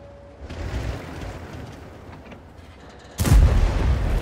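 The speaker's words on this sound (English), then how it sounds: "I did not saw that Arta shooting towards me" An artillery shell fired at a tank in World of Tanks lands as a sudden, heavy, close boom near the end, after a low rumbling battle ambience with scattered faint distant shots.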